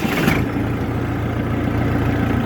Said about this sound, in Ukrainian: Завели 900 обертів.